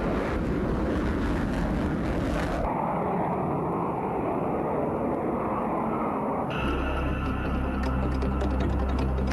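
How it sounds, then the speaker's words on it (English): An RAF Eurofighter 2000 fighter jet gives a continuous, broad roaring rumble that shifts in tone partway through and stays steady throughout, with no voices. "Enter the Eurofighter 2000, the RAF's next high-performance fighter."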